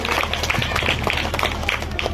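An audience claps at a school cultural program for Independence Day, a loud, dense burst of many hands sustained throughout with a low hum beneath.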